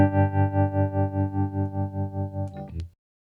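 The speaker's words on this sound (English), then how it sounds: "Here's the harmonic trem, which is a little bit more kind of Leslie-like." A sustained distorted guitar chord pulses in a steady, wobbling Leslie-like harmonic tremolo, about four throbs per second, before a brief scrape and sudden cutoff.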